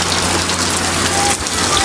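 Heavy rain pouring down in a steady, dense hiss that splashes on surfaces nearby, loud and continuous for the whole stretch with no voices.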